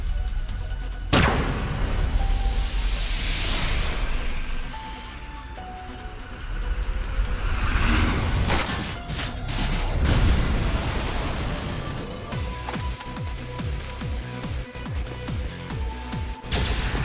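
The Scattershot weapon fires in the AI: The Somnium Files video game, with loud booming blasts and crashing impacts layered over a rumbling background, and a fresh burst of sharp hits later on.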